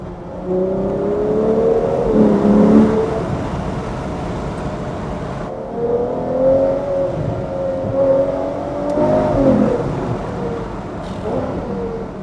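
A Ferrari 812 engine revs and accelerates on a seaside road in a deep, throaty roar that swells and eases in waves, with a brief quieter gap partway through.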